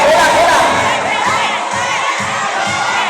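Schoolchildren in a classroom shout answers together in loud, chanting bursts, with a crowd of young voices filling the room and rhythmic repeated syllables toward the end.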